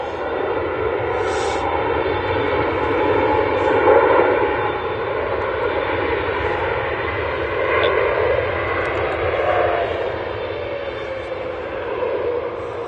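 An Etihad jet airliner roars at Manchester Airport in a steady, loud, broadband rumble with a whining engine tone that swells slightly and fades, lasting throughout.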